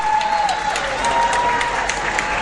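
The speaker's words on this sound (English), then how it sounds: "Pretty loud here with the cheering going on." Dense, loud applause and cheering from a crowd at the World Jigsaw Puzzle Championship final in Valladolid, continuous clapping with a faint high tone running underneath.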